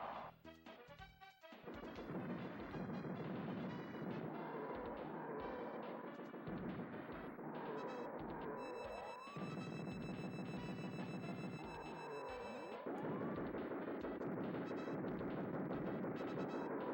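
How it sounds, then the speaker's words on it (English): Rapid weapon fire and blasts in the Super Smash TV game on SNES, with dense bursts of explosive shooting alongside continuous game music and effects, loud and steady throughout. "The peanut is my least favorite weapon in any video game."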